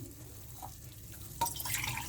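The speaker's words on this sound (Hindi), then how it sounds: "अब हम पानी डालेंगे।" Water pours into a cooking pan for Maggi noodles, starting abruptly partway through as a brief splashing rush that continues steadily to the end, faint and close, with no talk.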